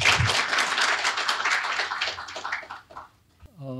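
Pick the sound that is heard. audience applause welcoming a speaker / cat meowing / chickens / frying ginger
audience applause welcoming a speaker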